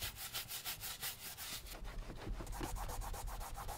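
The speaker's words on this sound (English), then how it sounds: "It's just a nice, soft, gentle brush to get in the seams and all the little spots that a rag can have a hard time" Soft brush scrubbing the vinyl and leather interior of a filthy Kenworth wrecker truck, a close, steady rhythmic rubbing with quick back-and-forth strokes and no talk.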